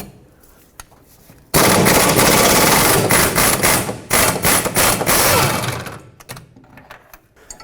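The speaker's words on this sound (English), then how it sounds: "this top one, you'll most likely need an extension if you decide to do it with an air gun" A close, loud air impact gun rattles off bolts on a 2009-2014 Ford F-150 rear bumper in one long burst followed by several short trigger pulls, with quiet before and after.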